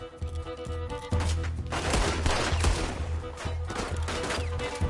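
Gatling gun unleashing a loud, continuous rapid-fire barrage, dense rattling bursts with heavy low thumps that build after a moment and stay intense with slight pulses, over a background score.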